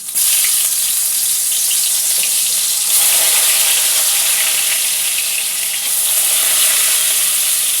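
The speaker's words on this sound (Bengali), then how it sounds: "কড়াতে বাকি তেলে বেগুনগুলো এক এক করে ভেজে নেব" Brinjal pieces fry in hot oil in a wok, giving a loud, steady hiss and sizzle with crackling that swells slightly as more pieces go in.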